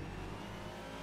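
A race car engine in the racing game Project Cars, revving hard and steadily at high pitch with a loud, continuous roar and no talking over it.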